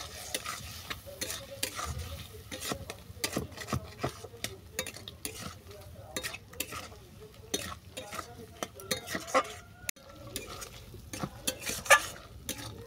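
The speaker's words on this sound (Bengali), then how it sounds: "এই মশলাগুলোকে ভালো করে কষিয়ে নেব।" Chilli powder and slit green chillies are stirred and fried with spices in hot oil for a fish-oil jhal, giving a steady sizzle under repeated scraping and clinking strokes of a utensil in the pan, close and moderately loud.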